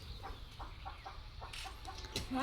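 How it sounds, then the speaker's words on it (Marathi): Hens let out of their coop give soft, scattered clucks at moderate distance, several short calls spread over a couple of seconds against low background noise. "सोडल्या कोंबड्या सोडल्या कोंबड्या एवढ्याच नाही त्या"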